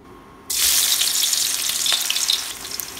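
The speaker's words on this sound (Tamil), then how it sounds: "இதனை வந்து தின்னாக ஸ்லைஸ் பண்ணிவிட்டு ஆயிலில் நம்ம டீப் ஃப்ரை பண்ணி எடுத்துடலாம்." Thinly sliced onions hit hot oil for deep-frying, bursting into a loud, sudden sizzle that stays dense and crackling throughout, close and without voices.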